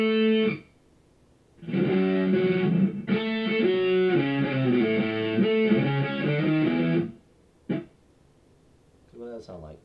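Electric guitar played dry and clean, a few seconds of chords and melody with no reverb tail, ending abruptly, then brief faint noises.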